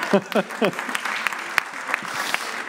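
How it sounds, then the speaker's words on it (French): Audience applause at a French round-table talk on nature and biodiversity, opening with several sharp claps and then settling into steady clapping that runs through the whole clip, with voices heard over it. "On applaudit Léna sur ça."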